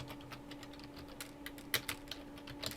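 Someone types on a computer keyboard at a steady pace, with irregular light clicks close by and one or two louder keystrokes, and no one speaking.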